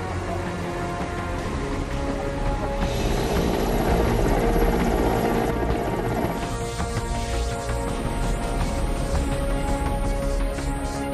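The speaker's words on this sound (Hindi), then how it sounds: "सुबह वायुसेना का हेलीकॉप्टर मोर्चे पर उतरा" An air force helicopter at a flood rescue near surging water roars loudly and continuously with heavy rotor thrum, its pitch and texture shifting midway as it maneuvers close by.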